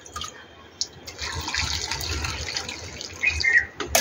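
Water is poured gently onto the soil of a potted rose plant, a soft trickling and splashing that swells in the middle and end, close and fairly quiet.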